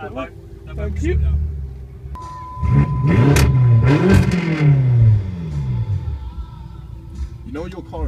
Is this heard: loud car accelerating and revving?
yes